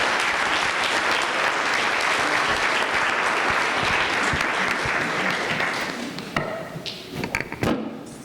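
Sustained audience applause for panelists at a renewable energy symposium, a dense even roar of many hands that holds steady for about six seconds, then thins into scattered individual claps and fades.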